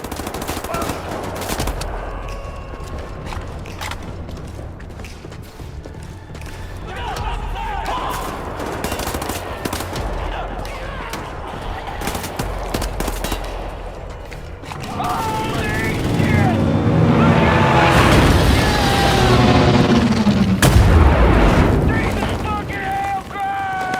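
Heavy automatic gunfire and explosions from a Wolfenstein: The New Order battle scene, loud and sustained, with shouted voices mixed in among the shooting and a rumbling, roaring swell building toward the end.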